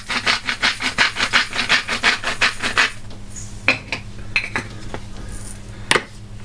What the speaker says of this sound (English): Now a little grind of salt.